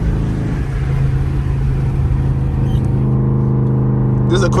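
A Dodge Durango cruising through traffic, its engine holding a steady, loud drone from inside the cabin, with a few faint clicks and a brief higher tone toward the end.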